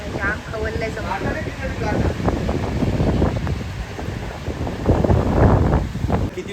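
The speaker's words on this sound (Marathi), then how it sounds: "वारा पण सुटलाय आता" Strong wind blowing at a rough seashore with waves, roaring and buffeting the microphone in a loud, continuous rumble that swells and gusts throughout.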